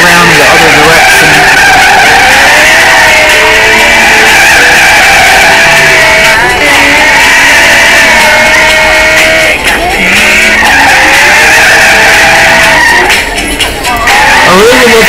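In a video game, a Ferrari 458 Italia drifts with loud, sustained tire squealing and skidding over the engine note, rising and falling across several long slides.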